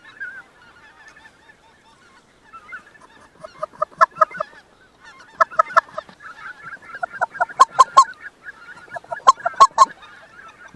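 Many white-fronted geese honk in overlapping bursts, sparse at first and then building into a busy chorus of calls from a flock in the distance, during a goose hunt.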